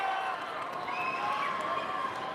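A basketball crowd at a men's finals game, fourth quarter, roars in a steady, continuous wash of cheering that fills the whole moment without pause.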